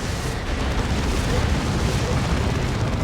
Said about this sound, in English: There's a orbital bombardment pulled in, I think